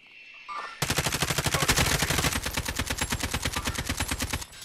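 AK rifle firing in the Warzone zombie royale mode, a long sustained burst of rapid, evenly spaced shots, loud and close, following a brief quieter lead-in, with no talking.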